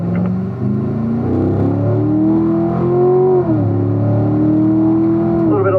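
A car accelerating hard around a Spring Mountain race track, the engine climbing through the gears up to fourth, loud and steady with rising pitch sweeps and a brief dip at a shift.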